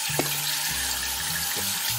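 Cold tap water runs steadily over freshly boiled shrimp in a kitchen pot, a close, continuous splashing wash with a few low knocks and shifts as the stream hits the shrimp and metal.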